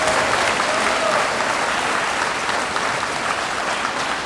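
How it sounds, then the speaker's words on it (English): An audience at the East Laurens High School Honors Night 2025 applauds scholarship recipients, a dense, steady round of clapping filling the hall throughout at full strength. "Let's give each and every one of our scholarship recipients a round of applause."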